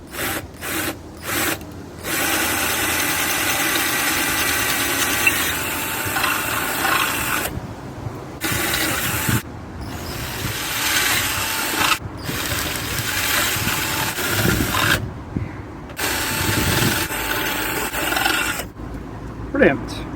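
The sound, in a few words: drill drilling holes in front panel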